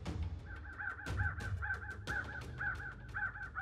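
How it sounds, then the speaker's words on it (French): A raven calls repeatedly in the Big Bend desert on the Rio Grande floodplain, harsh croaking caws coming in quick clusters over a steady wind rumble. "brisée seulement par le vent et le cri occasionnel d'un corbeau"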